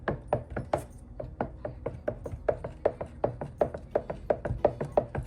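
A utensil taps and clacks rhythmically against a container while sea moss drink is stirred with Guinness, producing quick, regular knocks at close range with no talking.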